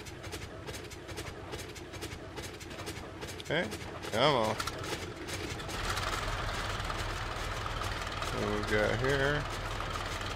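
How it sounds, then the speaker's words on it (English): World War I aircraft engines in a flight sim game, cranking and rising into a steady rumbling idle that grows louder midway and holds, with someone talking over it. "Start the engines."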